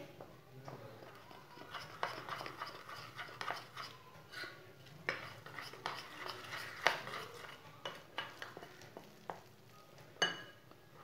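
Gram flour batter with salt, red chili and coriander powder being mixed with water using a spoon in a bowl, irregular scraping and clinking strokes at close range, fairly quiet with occasional sharper taps.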